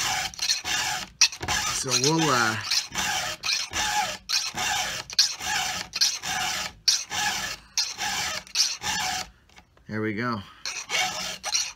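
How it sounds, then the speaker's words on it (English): Hand file sharpening chainsaw chain teeth, a series of rasping strokes in a steady rhythm with brief pauses between them, close and fairly loud, while someone talks briefly over it. "Lighten up on your file if you want to do those little cleanup strokes too, friends, to get that little burr off."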